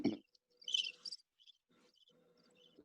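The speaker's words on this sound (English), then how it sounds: "Where's those crickets at? Hit those crickets." A sound-effect chorus of crickets gives soft, high chirps in short bursts, then a thin steady trill, with no talking, dropped in during a fantasy football picks show.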